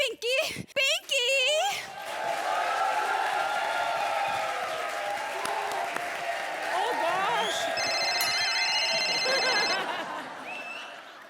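Telephone ringtone on a comedy stage show, a brief electronic ring near the end heard under continuous studio applause and crowd noise, with voices talking at the start.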